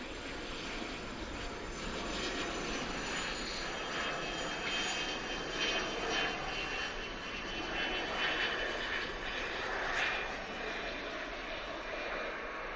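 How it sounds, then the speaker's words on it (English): Engines of a Cessna Citation Latitude business jet at Manchester International Airport, a steady broad roar that rises and falls gently, heard from a distance throughout. "Cessna Citation Latitude."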